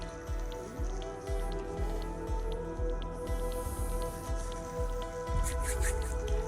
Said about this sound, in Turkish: Yanındaki suydan kibarca boşaltıyorum.